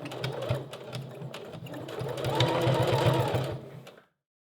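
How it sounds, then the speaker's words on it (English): Sewing machine running a straight stitch down the back of a bra, a steady close mechanical whir with rapid needle clatter that swells slightly before stopping abruptly. "Again, just a straight stitch all the way down the back."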